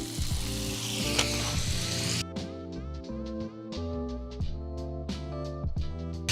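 A ribeye steak sizzles loudly in a pan as it is basted with butter, a dense hiss broken by repeated clinks and scrapes of a spoon against the pan.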